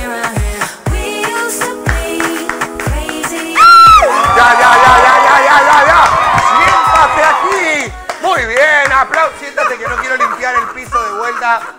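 A studio audience on a women's TV show cheers and applauds as a host attempts an egg-heel challenge. A loud burst of cheering and clapping swells for several seconds, set between stretches of excited talk and shouting.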